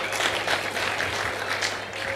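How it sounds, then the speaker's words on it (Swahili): An audience gives warm applause to a visiting district administrative secretary at a community development college event in Sengerema. The clapping is brisk and continuous and rises and falls in small waves throughout. "Makofi mengi kwake."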